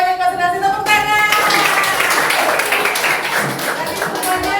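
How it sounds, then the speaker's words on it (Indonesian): A classroom of children claps together at a teacher's prompt, the applause loud and close, mixed with children's voices. "Oke, semuanya kasih tepuk tangan."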